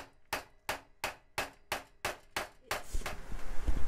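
A cheap chisel is struck with a hammer while retro-fitting a floor locker in a narrowboat: eight sharp, evenly spaced close blows, followed by a rougher scraping, rumbling stretch at the end.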